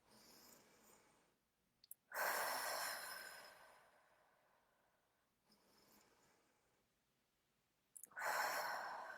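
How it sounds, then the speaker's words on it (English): Slow, deep breathing during a guided relaxation session, with long airy inhales and exhales separated by quiet pauses, close and fairly soft, no speech. "Take a couple deep breaths in through your nose and out through the nose or the mouth"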